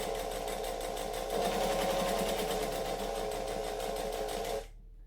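Sewing machine stitching a heart-shaped eyeglasses case, a steady close motor whir with rapid rhythmic needle chatter that rises slightly midway and then stops abruptly near the end, with no talk.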